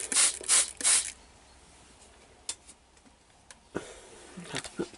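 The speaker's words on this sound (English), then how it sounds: "Give it a spray." Three quick hissing sprays from a spray bottle misting an orchid mantis enclosure, close by, followed by quieter handling clicks and rustles.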